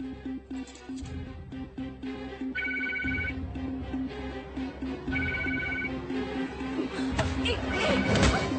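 A telephone rings in two short repeated bursts and goes unanswered, heard over a dramatic film score with a few sharp hits.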